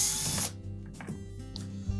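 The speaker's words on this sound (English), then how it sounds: "going to remove the screws that secure the control panel to the main top" Power driver whirring briefly while removing the hex-head screws that hold the control panel of a Whirlpool washer, a short near burst of motor noise followed by faint mechanical clicks.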